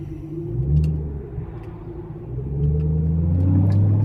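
Exhaust from a car rumbles as it drives by, a deep, close drone that swells, eases off, then builds again as the car accelerates, with no talk.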